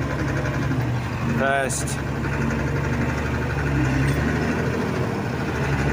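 A Case 1594 tractor engine drones steadily during a road test, a constant mid-pitched running note with a brief whine, while someone talks nearby.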